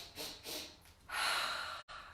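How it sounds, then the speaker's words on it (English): Three quick nasal sniffs, close and breathy, from a person pretending to be a bunny kneeling in a family yoga class; the last sniff is longest, and a brief silence follows. "3 sniffs."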